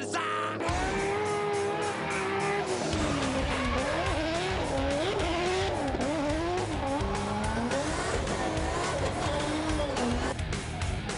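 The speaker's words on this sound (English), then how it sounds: "When Jake takes the car sideways, he can reach speeds of up to 180 kilometres an hour." A drifting car slides sideways at high speed, up to 180 kilometres an hour, with Jake Jones at the wheel. The engine roars and warbles loud and close alongside sustained tire squeal, continuous for the whole stretch.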